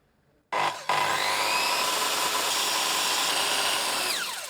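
A power saw bites into wood outdoors after a brief start-up, then cuts steadily, loud and close, with a continuous grinding rasp that eases off at the end.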